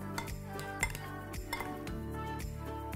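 Vietnamese noodle salad ingredients mixed together in a bowl, with quick clinking and scraping of utensils against dishware in a close, busy rhythm, no talk.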